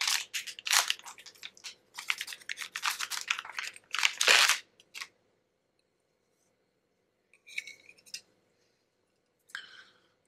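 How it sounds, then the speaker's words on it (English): Kitchen scissors cut open product packaging close to the mic, with a rapid run of crisp snips and crinkles, then a pause and a couple of short rustles. "Some handy kitchen scissors here, and I'll just slice that open."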